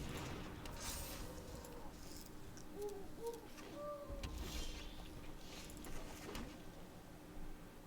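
A pet owl in the MTG Arena card game gives a few soft, rounded hoots in the middle, faint and low against a steady background hum with a little talk.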